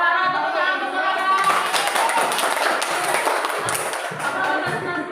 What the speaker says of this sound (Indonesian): Ya, Saudara, tepuk tangan untuk Saudara.